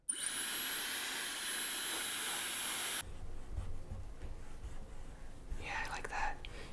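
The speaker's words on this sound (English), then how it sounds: "Now I'm going to blast this with some heat, and then I can press down" A heat gun blasts hot air onto a dbrand skin on a Lenovo Legion Go, a loud, steady hissing whoosh with a rising whine that cuts off abruptly, followed by quieter handling and faint whispering.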